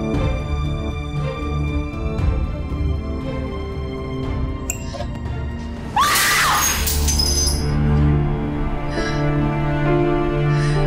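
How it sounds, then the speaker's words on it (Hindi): Glass shatters in a dramatic film scene, one sudden bright crash with scattering fragments rising over a loud background music score, with a faint tinkle of debris afterward. "ये शीशा, शीशा कैसे टूट गया?"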